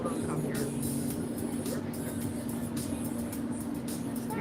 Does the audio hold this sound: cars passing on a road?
yes